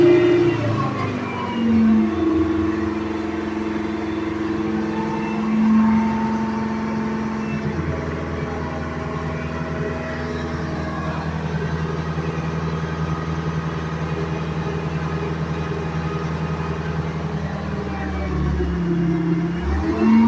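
A Detroit Diesel 453 engine bogs down, a low, steady labouring drone that sags and struggles without clearly picking up, loud and close.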